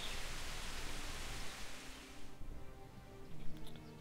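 Steady hissing rain falls in the video game Kingdom Come Deliverance, a dense wash that cuts off abruptly partway through, leaving quiet background ambience with a few faint ticks.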